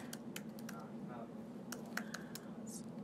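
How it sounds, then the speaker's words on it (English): Typing an email address on a computer keyboard, a quick scatter of light key clicks at close range over a low background hum. "enter our email and hopefully type it right the first time"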